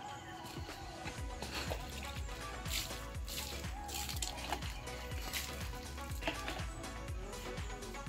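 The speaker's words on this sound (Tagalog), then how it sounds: "Hugasan ko lang po." Water splashes and trickles while a stone and a handle are washed on a farm, with irregular drips and sloshes close by and small knocks, no talk heard.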